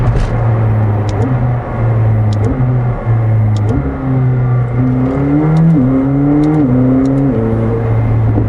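A McLaren 765LT engine roars and blips through downshifts, a loud, close, continuous drone that steps up in pitch several times, alone without talk.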